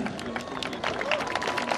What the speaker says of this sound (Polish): Brawa wielkie dla tych rycerzy.